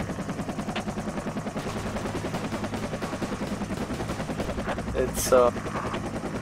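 Rapid machine-gun bursts in the jungle combat game Project Reality, a steady rattling stream of automatic fire with a louder burst near the end, a voice speaking briefly over it.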